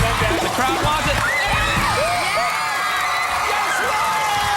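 A game show studio audience cheers and whoops continuously, with yells rising over a steady crowd roar and scattered voices talking underneath.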